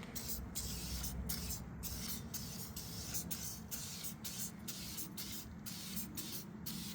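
Repeated short hisses of tire shine sprayed onto a car tire, about a dozen quick spritzes in an uneven rhythm over a steady low background rumble, close but fairly quiet.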